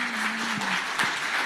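A studio audience at a Hindi TV news debate gives loud, continuous applause to welcome the guests, a dense, even roar of clapping with a faint voice underneath.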